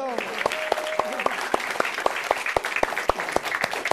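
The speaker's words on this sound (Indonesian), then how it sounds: "Tepuk tangan dong" Audience at an Indonesian comedy roast battle clapping for the winning singer, crowd applause running under loud, sharp rhythmic beats and a brief tonal sound, with voices mixed in.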